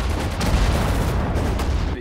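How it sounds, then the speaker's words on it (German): Artillery fire in the WWII strategy game Sudden Strike 4, a dense, continuous rumble of booming explosions and gunfire with strong low-end weight, sustained loudly throughout with no gaps. "Artillerie, Feuer!"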